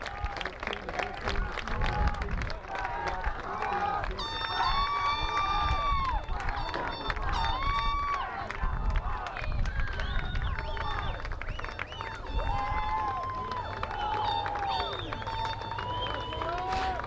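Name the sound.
crowd applauding after a high school soccer championship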